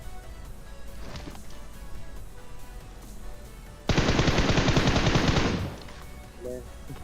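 Gunfire in a mobile battle royale game on a Samsung phone, one faint burst and then a loud rapid automatic volley of nearly two seconds, followed by a brief faint shot, with game ambience underneath and no speech.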